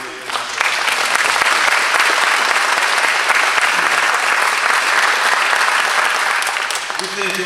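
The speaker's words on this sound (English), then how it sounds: "let's just give one more round of applause for our new class" Sustained audience applause at a 2018 athletic Hall of Fame induction ceremony honoring the new class, a loud, dense wash of clapping that carries steadily for several seconds before easing slightly at the end.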